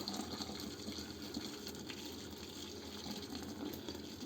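Water pours steadily down a sink drain during kitchen descaling, making a continuous soft, faint gush with no pauses.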